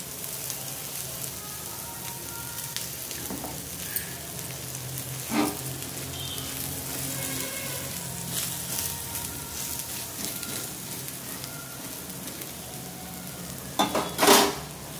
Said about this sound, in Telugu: ఆయిల్ వేసుకొని కాల్చుకోవాలి దోశని